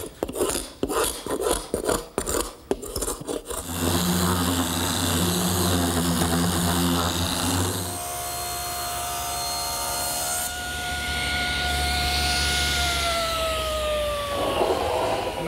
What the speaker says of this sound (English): and sand everything smooth.